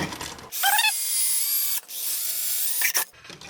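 A power drill whirs in two high-pitched bursts, briefly stopping between them, drilling a hole for an HHO generator cell, close by with no talking.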